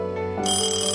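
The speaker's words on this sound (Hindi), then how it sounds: "इसी बीच दूल्हे के फोन की घंटी बजती है।" A mobile phone ringtone sounds in a Hindi cartoon wedding scene, the groom's phone going off on stage; a steady tonal ring that swells brighter halfway through, loud and alone.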